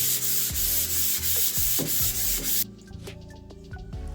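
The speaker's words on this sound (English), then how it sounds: "I have some 240 grit sandpaper and a sanding block, and I am going to go lightly over the first coat" Sandpaper of 240 grit on a sanding block rubs lightly over a painted first coat on an old wooden media unit, loud steady back-and-forth strokes for about two and a half seconds, then quieter scattered scraping and taps.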